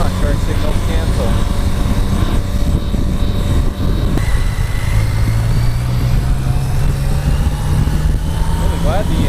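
A BMW K75S motorcycle, revived after ten years sitting, runs on the road with steady engine noise and wind roar throughout, a low idling hum settling in toward the end while the rider talks over it.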